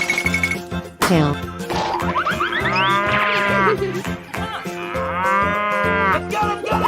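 A cow moos several times in long, loud, drawn-out calls with rising and falling pitch, set in a busy children's song-like track with other sounds around it.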